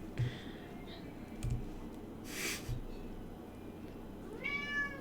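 A cat gives a few short, faint meows close by, spread across a quiet room with light clicks and small noises between them.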